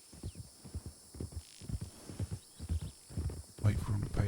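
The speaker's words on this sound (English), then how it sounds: "There's horses." Horses passing nearby at a walk, a steady rhythmic clip-clop of hooves with a snort or whinny near the end, heard under people talking in a Western game setting.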